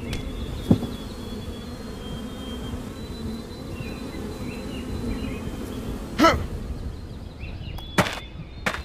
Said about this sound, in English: What are those? Those are bees!